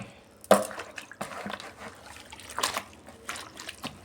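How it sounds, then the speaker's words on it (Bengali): Water poured over leaves soaking in salt water in a bowl, a few short trickles and splashes close by, with quiet pauses between the pours. "আর একটু জল দিয়ে ওই লবণ জলের মধ্যে পাতাটা ভিজিয়ে রাখছি"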